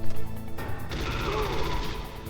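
Gunfire in the PS1 video game Metal Gear Solid comes as a burst of sharp, rapid shots and crashes over busy game sound, with some talk in the background.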